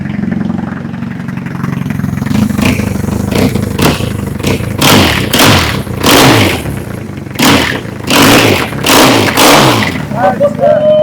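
A customised BMW R nineT motorcycle engine warming up, a loud, close, throbbing idle with a rough low rumble and repeated blips of rising revs, while people talk over it.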